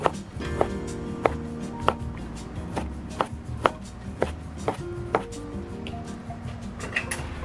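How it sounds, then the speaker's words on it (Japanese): Bamboo shoots being cut with a kitchen knife on a board, the base and tip separated, giving a steady series of sharp, close chopping knocks at an irregular rhythm with no talking. "たけのこは根元と穂先を切り分けて切っていきます。"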